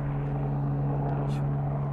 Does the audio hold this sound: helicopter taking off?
yes